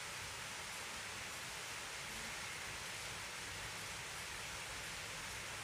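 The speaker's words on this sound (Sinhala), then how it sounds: "ඔය වෙනකොට වහින සද්ද ඇහෙනවද දන්නේ නැහැ ඉතින්." Rain falls steadily in the game Minecraft as a faint, even hiss, continuous and unbroken with no talking.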